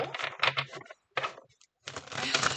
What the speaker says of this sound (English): So I'm going to shuffle, pick the top 3 cards.